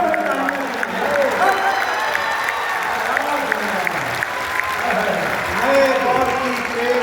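A large crowd at a poetry recital in Patna keeps up steady clapping, with a voice in the hall cutting through partway, and the applause surges again near the end.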